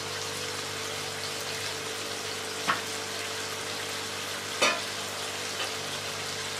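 Chicken pieces fry in ginger-garlic paste with spices in a pan, a steady even sizzle broken by two short utensil scrapes, with no voices.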